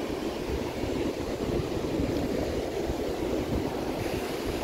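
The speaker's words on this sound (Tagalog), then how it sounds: "sa gilid ng dagat, sa may beach, Muara Beach yung tinatawag" Sea waves washing onto the shore at Muara Beach in Brunei, a continuous rumbling surf with wind buffeting the microphone, nearby and steady, with no talk.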